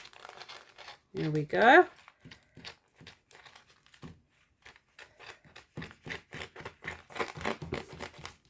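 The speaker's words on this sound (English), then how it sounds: "Now, plastic is very hard to cut, a little bit tricky." Scissors cut through a plastic sheet in a series of short snips and crinkles, close by and fairly quiet, with a louder crumpling rustle early on and a person speaking briefly.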